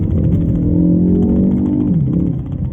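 A car driven in second and third gear along a UK road, its engine revving up loudly through a gear, dropping briefly at a shift, then pulling again, close and unbroken by speech.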